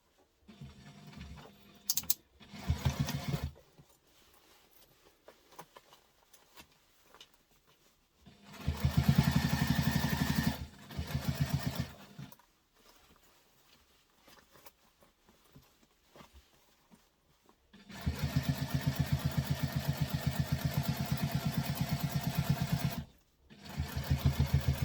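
Sewing machine stitching a wristlet, running in three bursts of steady, fast mechanical whirring and clatter, separated by quiet stretches with faint handling noises.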